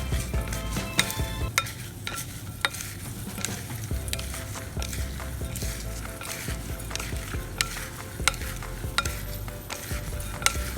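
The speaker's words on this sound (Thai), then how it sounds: "หอมกับกระเทียมเจียว คลุกเคล้าให้เข้ากันเบาๆค่ะ" Fried shallots and garlic are stirred into a pork-crackling chili paste with lemongrass and kaffir lime leaves, making a steady sizzle with frequent sharp utensil clicks and scrapes against the pan.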